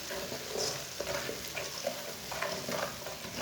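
Ground red chilli, turmeric and coriander powder roast in a pan over low heat for aloo palak, giving a soft, steady sizzle with faint scraping and stirring throughout.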